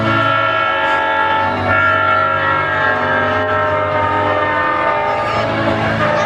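A loud, sustained train horn blares steadily for several seconds over the rumble of a train, with no talking.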